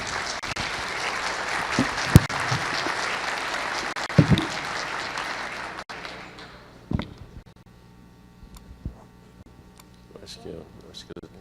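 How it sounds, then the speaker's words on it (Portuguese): Dense applause from a crowd at a lecture fills the first half, then fades out, leaving scattered taps, footsteps and room noise. "Uma salva de palmas."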